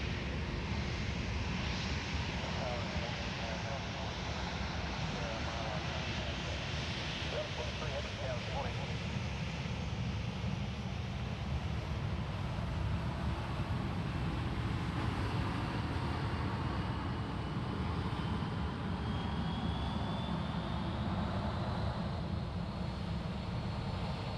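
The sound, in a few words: domestic airliners taxiing for departure at Sydney Airport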